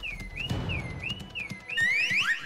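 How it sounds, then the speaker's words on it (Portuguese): A cartoon secret base's emergency alarm wails in a rising and falling electronic siren. It repeats steadily and loudly, with busy background sound underneath and no voices. "É o alarme de emergência da nossa base secreta."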